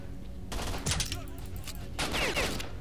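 Bursts of rapid gunfire from the video game S.T.A.L.K.E.R.: Shadow of Chernobyl, loud and close, in two volleys with a pause between them.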